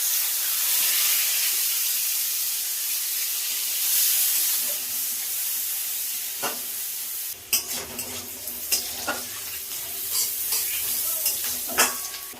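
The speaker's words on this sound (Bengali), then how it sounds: "পেঁয়াজটা ভালো করে ভেজে নিয়েছি" Chopped onions sizzle in hot oil tempered with dried red chilli, cumin and bay leaves, a loud steady hiss that eases off, then gives way to scattered scraping and clinks of stirring.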